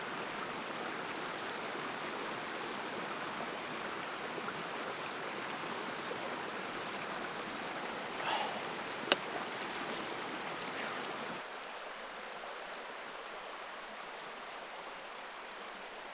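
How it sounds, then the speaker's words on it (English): Mountain stream in the Seneca Creek backcountry flows steadily, a constant close rushing wash of water with no voices, dropping slightly quieter near the end. "I stopped at this stream a little higher up here. Flowing really nice"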